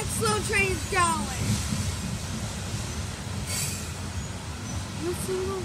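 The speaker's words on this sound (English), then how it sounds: "Look at how that slow train is going." A slow CSX freight train rolls past on a windy day with a low steady rumble and wheel squeals rising and falling, while a person talks faintly in the background.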